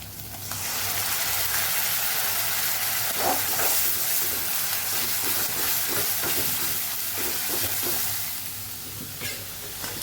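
Onions and tomatoes frying in a pan for a besan curry, a steady close sizzle and hiss throughout with occasional clinks and stirring scrapes, no talking.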